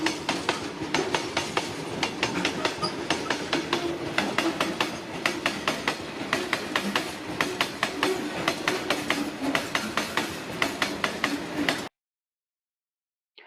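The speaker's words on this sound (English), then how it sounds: "the old trains clatter down the tracks." An old train clatters down the tracks with a fast, steady clickety-clack of wheels over rail joints, loud and continuous before cutting off abruptly.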